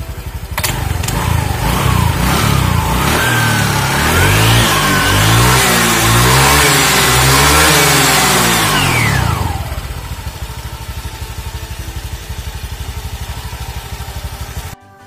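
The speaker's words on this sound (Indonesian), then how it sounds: "ada Om Agung yang geber-geber" A Honda Vario 150cc motor scooter engine fitted with 14-gram rollers revs loudly and repeatedly, rising and falling in pitch, then drops back to a steady, lower idle.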